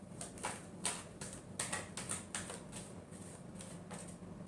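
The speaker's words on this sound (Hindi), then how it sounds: "last shuffle" Tarot cards are shuffled in quick bursts of riffling and soft flicking, a close, crisp, repeated texture that comes in uneven waves, with no voice over it.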